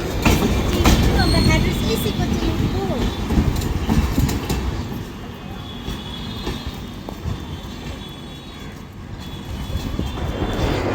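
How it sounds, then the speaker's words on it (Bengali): The Sairang Express rolls slowly through Ranaghat junction, a loud close rumble of wheels on rail with clanks and faint squeals, steady throughout as the carriages pass. "সাইরাং এক্সপ্রেস বেরিয়ে যাচ্ছে আস্তে আস্তে"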